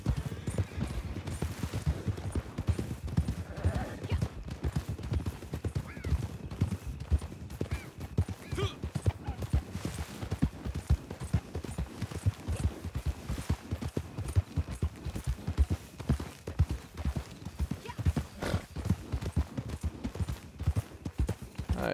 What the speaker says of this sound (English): Got some wild horses here.